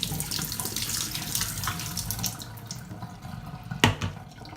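Water is poured over lentil sprouts, splashing and trickling steadily, with a brief louder splash near the end; no voices.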